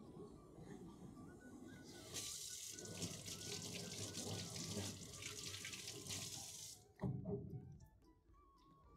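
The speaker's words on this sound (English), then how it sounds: "And let's wash our hands." Tap water runs steadily into a sink while hands are washed in a hookah tobacco factory, a close hiss lasting several seconds before it shuts off, followed by brief handling sounds.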